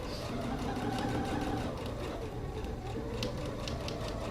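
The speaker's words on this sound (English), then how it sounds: "I'm just going to continue sewing to the next channel" A sewing machine stitches boning channels across interfacing on a garment, running in one continuous, even mechanical whir at moderate volume.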